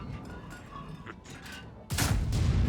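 A heavy tank HE shell blast erupts near the end after quieter scattered thumps, a loud booming explosion with a sustained rumbling tail, game-like in character.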